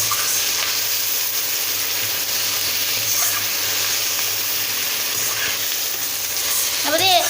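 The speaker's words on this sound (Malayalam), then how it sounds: "1 സ്പൂണ് മഞ്ഞൾപ്പൊടി ഇട്ട് കൊടുത്ത് ഇനി നന്നായിട്ടൊന്ന് ഇളക്കാം" Steady sizzling and frying as turmeric is stirred into a bitter gourd curry in a pan, a continuous close hiss with faint scraping, no talk.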